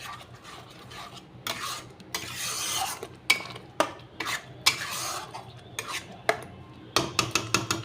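Spices frying and being stirred in a pan, with clinks and scrapes of a utensil against the metal over a steady low sizzle, close and moderately loud, in repeated bursts.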